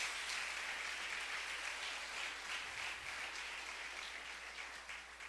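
Sustained applause from a church congregation, many hands clapping in a steady wash that fades gradually toward the end.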